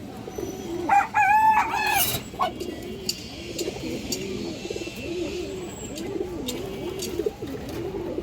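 A big-sized pair of Muslodom pigeons at a farm coo steadily in low repeated rolling phrases throughout, joined by a brief rooster crow near the start and light clatter in the background.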